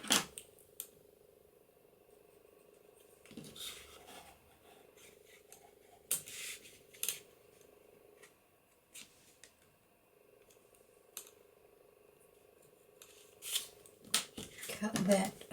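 Scissors snip through papercraft card stock for a Christmas cascade card, a scattering of short, crisp cuts at irregular intervals against a quiet room, with a voice talking in between.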